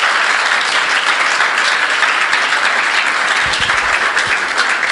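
At a church youth meeting, a congregation breaks into steady, full applause that carries on unbroken at a strong level, with only faint traces of voices beneath it.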